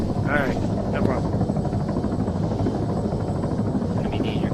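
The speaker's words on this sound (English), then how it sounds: "protect the helicopter until I get Snake out of here" Helicopter in the military video game ArmA 3, a steady droning rotor and engine hum running continuously and fairly loud throughout, with faint talk over it.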